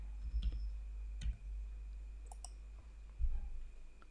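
Quiet computer mouse clicks while browsing in the Chrome web browser, a few sparse, faint ticks over low steady room hum, with no voices.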